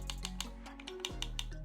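Crisp plastic clicks repeat about every fifth of a second over a low steady hum, the buttons of a Monka Contra gamepad being pressed one after another.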